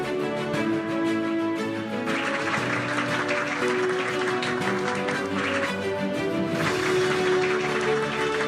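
Auditorium applause at a private school's tenth anniversary ceremony, a crowd clapping under steady background music, swelling louder midway and again near the end.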